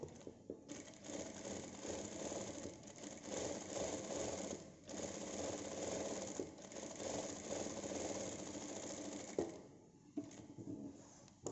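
A sewing machine runs steadily, stitching gathering rows on a tunic, its rapid mechanical whirr continuous with a few brief pauses and a short stop near the end.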